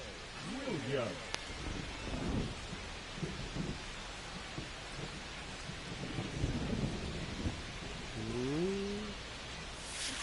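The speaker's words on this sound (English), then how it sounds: "This rain is not letting up." Steady rain hisses in the MLB The Show 25 baseball video game, a broad continuous wash with low rumbles, under talking voices throughout.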